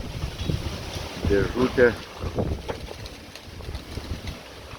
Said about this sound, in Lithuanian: viską varto vėjas